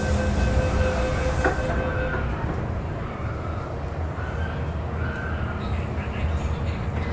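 An MTR train runs through Hong Kong with a steady, loud rumble of wheels and carriage noise, and high squeals fade early on.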